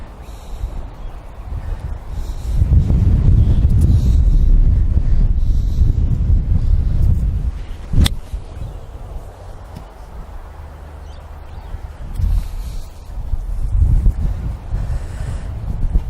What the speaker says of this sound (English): Almost impossible to stand up here, guys. So windy.